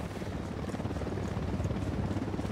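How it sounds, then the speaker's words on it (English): A rapid, thudding rotor chop with a low rumble, fairly loud and steady, like a helicopter hovering close by, in the video game Ghost Recon Wildlands. "Helicopter, get down."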